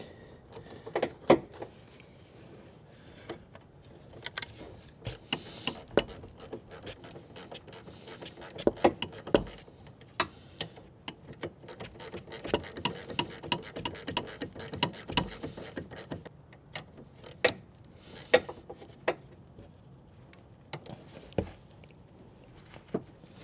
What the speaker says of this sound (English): we are going to tighten up the nut here, 18 on the wrench flat and a 15 at the back